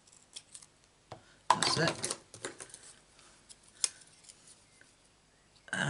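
Scissors trim a piece of paper for a handmade stamped card, giving a few short crisp snips close by, with quiet speech before and after the cutting.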